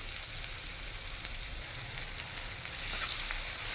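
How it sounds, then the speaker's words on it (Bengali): Thinly sliced onions dropped into the oil left from frying prawns, giving a steady close sizzle that swells louder toward the end, with no voices. "চিংড়ি মাছ ভাজার পর যে তেলটা আছে এর মধ্যে দিয়ে দেবো পাতলা করে কাটা পেঁয়াজ।"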